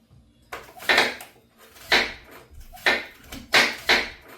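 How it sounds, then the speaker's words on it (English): Apples being chopped on a board for apple cider vinegar, five or six sharp knife strikes in an uneven rhythm, close and fairly loud with quiet gaps between cuts. "So I'm going to chop it."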